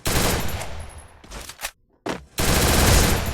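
An MP40 submachine gun in Free Fire firing at a very high rate, loud close bursts with a brief near-silent gap between volleys before a final sustained burst.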